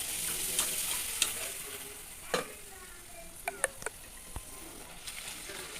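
Poori puffing as it deep-fries in hot oil, a soft steady sizzle with scattered faint pops and ticks, fairly quiet and close.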